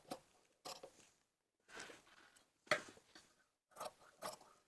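Scissors cutting through trouser fabric, a series of quiet, separate snipping and crunching strokes with short silent gaps between them, close and faint.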